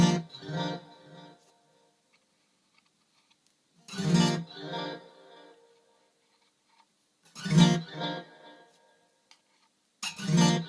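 Elite Acoustics StompMix 4 pedal for multi-pickup instruments, channel 1 running a delay effect: short plucked instrument phrases ring out and repeat as fading echoes, with gaps of near silence between four separate bursts, no talking.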